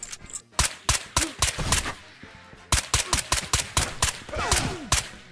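Rapid gunfire in the Ghosts of Tabor VR shooter while taking out scavs: loud, close bursts of sharp shots in two volleys with a brief pause between, plus metallic weapon handling.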